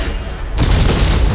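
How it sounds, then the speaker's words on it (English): A video game explosion goes off abruptly and loudly. Its sudden blast spreads into a dense, sustained roar that fills the rest of the moment. "when stuff like this is exploding around you"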